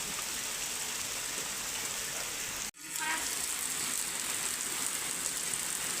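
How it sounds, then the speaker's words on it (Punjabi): Heavy sudden rain pours steadily outside a mud house, a dense, loud, continuous hiss broken only by a brief dropout near the middle. "ਬਾਰਿਸ਼ ਬਹੁਤ ਹੀ ਤੇਜ਼ ਹੋਣੀ ਸ਼ੁਰੂ ਹੋ ਗਈ ਹੈ"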